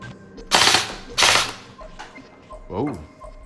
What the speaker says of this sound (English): Can you hear the sound of the charging handle?